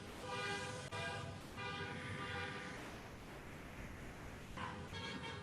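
Car horns honk outside a yoga class, a few toots with a strong harmonic tone in the first seconds, followed by a muffled street roar and another short honk near the end.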